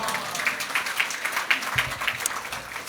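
Church congregation clapping to welcome a pastor at a morning prayer meeting, a steady patter of applause filling the room at moderate level, with a few brief voices mixed in.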